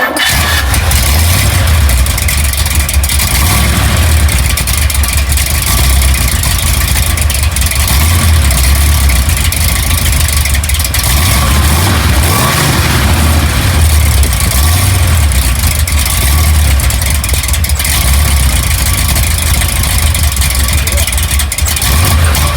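Makeshift-rigged hot rod engine turning over and then idling loudly and roughly, close up, a dense continuous rumble with slight revs, voices faintly underneath.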